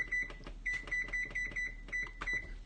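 A kitchen timer's rapid high electronic beeps repeat in short bursts, close and clear, over a low hum.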